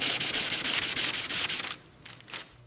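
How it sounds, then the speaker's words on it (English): Steady rhythmic sanding strokes scrub the last of the original damaged paint off a rusty Thomas train toy frozen for 60 years, close and soft. The strokes stop, then a few lighter rubs follow. "are sanding away the last traces of the original damaged paint"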